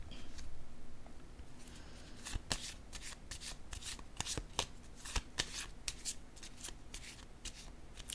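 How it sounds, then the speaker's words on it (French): Tarot cards are shuffled and drawn by hand in a series of close, crisp riffles and flicks. The card sounds are irregular and fairly quiet, with no voice over them. "je vais piger une autre carte"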